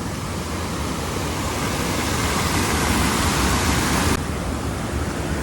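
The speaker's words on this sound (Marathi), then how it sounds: "पाऊस पडतोय जोरात पाऊस पडतोय" Loud, unbroken roar of heavy monsoon rain pouring down close by beside a swelling river in rural Konkan, India, a dense hiss that continues without pause.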